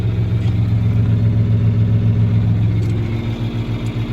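A tractor engine pushes a bale with a loud, steady mid-pitched rumble under load, and its rhythmic throb becomes pulsing toward the end; no one speaks.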